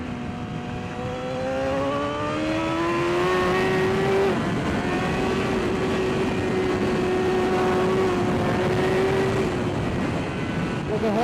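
A racing motorcycle on Bridgestone Battlax slick tyres revs loudly under throttle, its engine note climbing steadily through the gears in a sustained, close, continuous roar.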